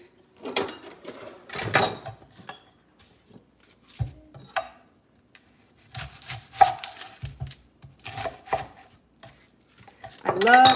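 Knife chopping a big red onion on a cutting board for sausage and peppers, irregular bursts of cuts with pauses and some kitchen clatter, no talk.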